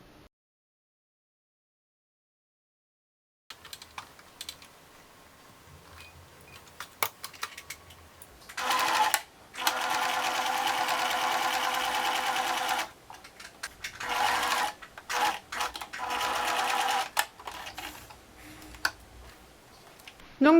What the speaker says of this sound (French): L'étape d'après, c'est d'aller faire une couture ici à 1 cm du bord pour tout maintenir.